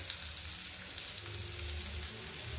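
Onions fry in a pan for baingan chana dal, giving a continuous dense, close sizzle with a bright crackling hiss that holds steady throughout and no talking over it.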